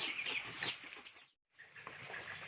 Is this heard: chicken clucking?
yes